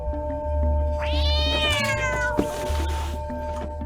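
A cat meows in the video game Stray, giving one drawn-out, rising and falling call over a low electronic hum and soft game ambience.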